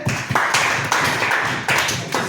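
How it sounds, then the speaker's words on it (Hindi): Students at a school sports quiz competition applaud a team, a close, dense burst of clapping lasting a couple of seconds. "ताली बजाओ उसके लिए"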